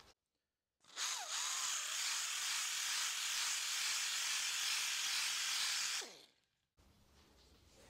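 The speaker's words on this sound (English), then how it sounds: "the honing tool, which we spin up, insert, run up and down" A drill spins a cylinder honing tool inside a Rover P6 3500 V8 bore: a loud, steady high-pitched whirring grind that starts abruptly, runs about five seconds, then winds down to quiet.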